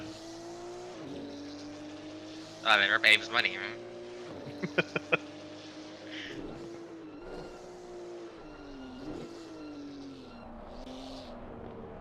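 A race car engine in a racing video game at Monza holds a steady, buzzing drone with small pitch dips under the driver's talk, and a few sharp clicks cut in briefly.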